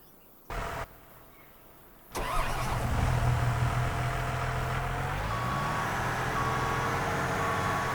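Reversing beeps from a Case IH Steiger 2025 tractor in Farming Simulator 25, a steady high intermittent beep beginning partway through, over a loud continuous diesel engine drone that starts up after a brief rev.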